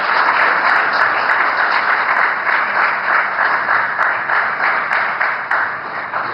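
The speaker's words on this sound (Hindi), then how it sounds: "तालियां की गूंज आती रहे।" An audience applauds at a ceremony where India's Prime Minister is being honoured at the INS Tower inauguration, a dense, sustained roar of clapping from a large crowd that tapers off slightly toward the end.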